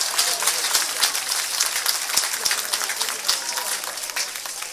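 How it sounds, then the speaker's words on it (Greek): Audience at a Cretan artists' award ceremony held by a Mylopotamos association in Heraklion, applauding in a dense, steady wash of clapping that lasts throughout, with a few voices audible beneath it. "Ένα θερμό χειροκρότημα."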